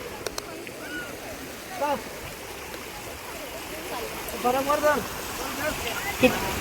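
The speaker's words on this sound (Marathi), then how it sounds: "किती सुंदर खळखळून पाणी वाहत चाललेलं आहे" Clear mountain stream water gurgling and flowing steadily nearby as a continuous wash, with a person talking over it in places.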